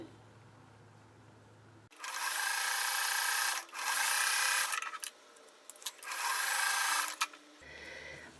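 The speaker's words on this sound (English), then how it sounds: "So now I'm just going to sew these two together and these two together." A sewing machine runs in steady bursts while joining quilt block pieces, with a whirring stitch sound that starts, pauses briefly, and resumes several times, close and clear.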